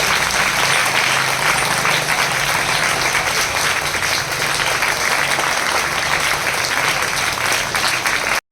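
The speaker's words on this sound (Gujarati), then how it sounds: "તાળી બંધ ન થવી જોઈએ" Continuous loud applause from a large gathering at a primary school flag-hoisting ceremony on Independence Day, a dense unbroken wash of clapping that cuts off abruptly at the very end.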